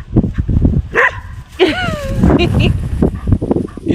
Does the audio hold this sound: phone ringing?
no